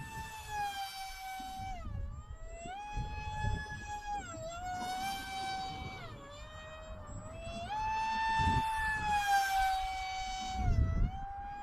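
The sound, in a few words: FT Goblin RC plane flying, motor and propeller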